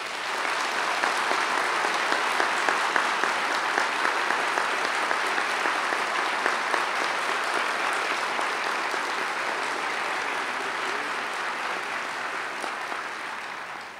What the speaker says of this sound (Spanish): para quienes les pido un fuerte aplauso